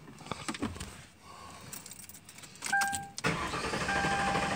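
A Ford Crown Victoria with a stalling fault: after a quiet moment and a couple of electronic chimes, the starter cranks briefly and the engine catches, settling into a close idle.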